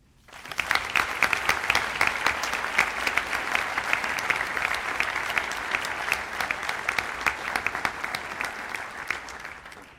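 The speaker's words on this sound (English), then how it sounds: "Let's give a round of applause to this year's Wadsworth High School Army Reserve National Scholar Athletes, Taylor Woods and Nick Messam." Steady audience applause at a high school senior academic recognition ceremony, many hands clapping quickly and evenly for about ten seconds after a short start, with no talking over it.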